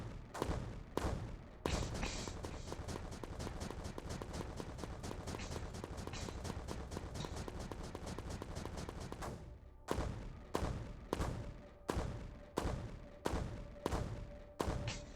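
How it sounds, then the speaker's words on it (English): Mortar shells thump down repeatedly in the video game Creeper World 4, a dense barrage of rapid impacts followed by slower, evenly spaced heavy thuds, with a voice talking underneath. "I'm literally dropping mortars right on the upgrade"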